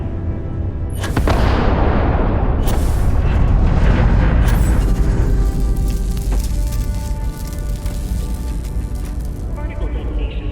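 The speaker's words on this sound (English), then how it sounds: "Particle detonation concluded." Particle detonation in Starfield, a massive deep boom that swells into a long roaring rumble with metallic ringing and debris tones, loud and sustained, and a voice is heard over it.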